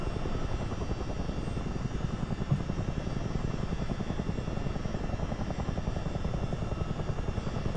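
A CH-47 Chinook tandem-rotor helicopter flies in Microsoft Flight Simulator, its rotors producing a steady, dense, rhythmic chopping thump with engine roar, continuous and fairly quiet with no talk.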